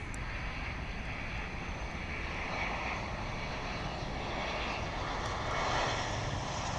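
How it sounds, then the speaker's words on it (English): Airbus A321 airliner on arrival at DFW International Airport, a continuous loud roar of jet engines that builds slightly as it passes, heard from a distance outdoors with no talking. "This is American Flight 744 coming in from Oklahoma City, an Airbus A321."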